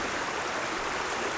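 A stream flows too deep to cross, a steady close rushing of water, even and continuous with no voices.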